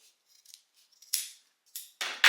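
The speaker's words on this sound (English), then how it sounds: "snip it right in the middle" Scissors snipping through the middle of a denim waistband, a few short crisp close cuts, faint at first and then louder, with no talking.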